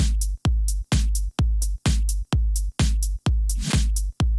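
A drum beat programmed on an NI Maschine thumps out in a steady four-on-the-floor pulse, with a punchy kick and bright hats or claps repeating in tight, loud loops.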